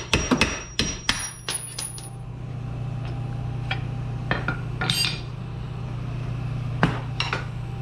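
Sharp metallic strikes of a hammer on a chisel against the strut of a 2009 Toyota Camry, a handful of irregular clanks and clinks with ringing tails over a low steady hum.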